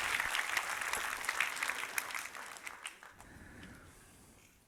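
Applause from a fairly distant crowd, steady at first and then thinning out and fading over a few seconds.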